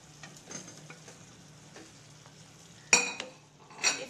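Fried chicken being stirred into a dry masala in a pan, with soft scraping strokes over a low sizzle, then two sharper, louder clatters of the spoon against the pan near the end.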